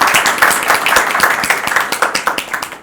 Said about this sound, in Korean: 박수 많이 해주시기 바랍니다